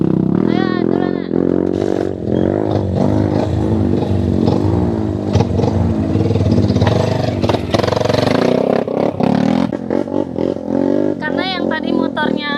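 A motorcycle engine revs and strains on a steep uphill trail on the slopes of Papandayan, an active volcano near Garut, droning loudly throughout under continuous overlapping speech from people close by.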